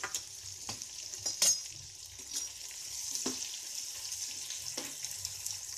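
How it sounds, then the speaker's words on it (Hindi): Edible gum (gond) frying in a pan on a medium flame gives a steady close hiss and sizzle throughout. Occasional louder taps and scrapes of a stirring spoon sound against the pan. "मैं मीडियम फ्लेम पे गोंद को फ्राई करूंगी"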